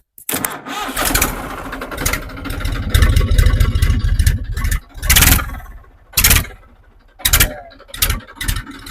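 A tractor engine cranks and catches, then runs with repeated revving bursts, loud and close, with short gaps between surges.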